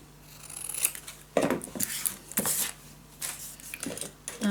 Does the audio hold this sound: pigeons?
no